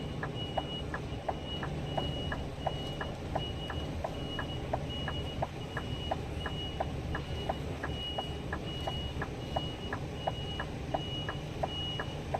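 Truck backing up toward a crane, its reversing alarm sounding a steady series of about two dozen evenly spaced beeps over a low diesel idle rumble, moderately close, no talking.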